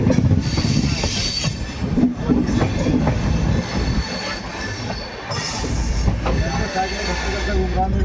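The Lucknow Double Decker Express pulls into Moradabad Junction with loud, continuous wheel squeal and grinding, steady rumbling carriages and rail clatter close by, heard from on board.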